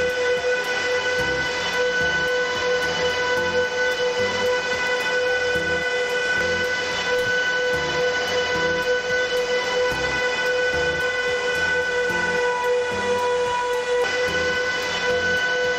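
A loud, sustained horn in the Roblox game Car Driving Indonesia blares continuously with steady tones over a rumbling, rhythmic mechanical background, with no talking.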